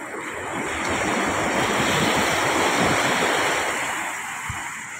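Ocean waves break and wash along the shore on a rough day after a storm, a loud, close surge that builds and then eases, mixed with wind buffeting the microphone, with no talking.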